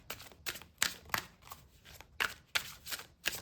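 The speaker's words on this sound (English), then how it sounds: "Give it a quick shuffle." Tarot cards are given a quick shuffle, producing soft, rapid riffling and slapping bursts in an uneven rhythm, close and fairly quiet with no talk.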